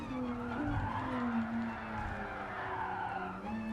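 A Nissan GT-R drifting in a Gran Turismo Sport race, with sustained wailing tire squeal sliding up and down in pitch over a droning engine, loud and close for several seconds.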